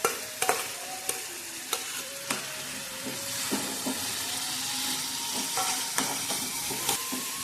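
Grated carrot for gajar halwa frying in a pan, a dense steady sizzle broken by repeated scraping strokes of a spoon stirring at an even pace.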